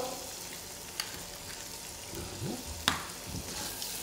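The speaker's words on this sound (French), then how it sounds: "J'ai fait chauffer un filet d'huile d'olive dans la poêle et je vais faire sauter les escargots" Snails sauté in a pan of hot olive oil, a steady close sizzle with a few clicks and scrapes of stirring, no voices.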